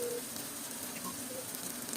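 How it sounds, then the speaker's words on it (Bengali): Prawns frying in a pan for a spiced Bengali prawn dish, a steady close hiss of sizzling oil throughout. "এরপর যে আরেকটু ভেজে নিব।"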